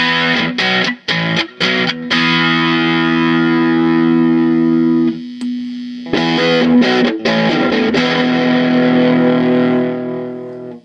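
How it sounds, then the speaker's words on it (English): Heavily distorted electric guitar through a 35-watt solid state amp with a scooped-mid, bass-and-treble heavy tone plays chugging chords and a sustained ringing note, loud and close with no talking. "a distorted heavy metal mid scoop sound"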